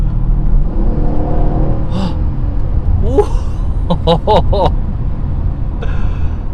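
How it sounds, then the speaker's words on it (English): A Mercedes-Benz CLS550 in sport mode accelerates hard with a low, continuous engine rumble, while excited exclamations and voices inside the cabin ride over it. "I got on the gas and it was gone"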